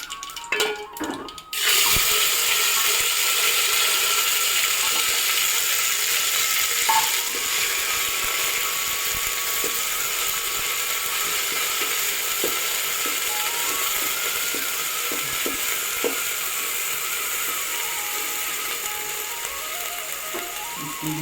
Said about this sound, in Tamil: அது நல்லா கடுகு பொரியுது.